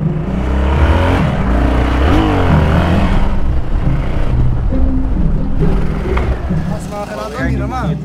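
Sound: Yamaha XT660 motorcycle engine revving during a wheelie

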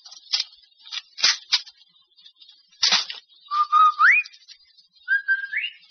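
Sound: whistle signalling arrival home

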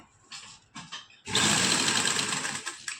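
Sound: sewing machine stitching a kameez neckline

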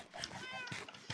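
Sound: cat meowing in video game Minecraft

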